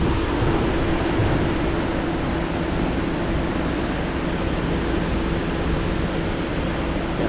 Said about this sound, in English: hopefully the mic is picking up the rushing water